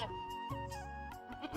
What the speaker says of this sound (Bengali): ছাগলটা তো কুকুর মায়ের বকা শুনে সঙ্গে সঙ্গে ডাকতে শুরু করে দিল।